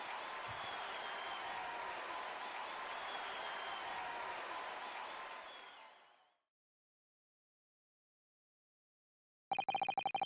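Courtroom applause in The Great Ace Attorney Chronicles after a not-guilty verdict: dense, steady clapping from a crowd that fades out around six seconds, followed by silence and a brief burst of bright electronic game tones at the end.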